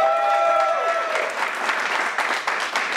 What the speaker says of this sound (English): So by a show of applause, how about Connor to get interrogated?